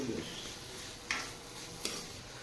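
Chopped onion fries in a pan with a faint, steady sizzle, broken by a couple of sharp scrapes of a spoon stirring it, close but quiet, with a voice talking softly nearby.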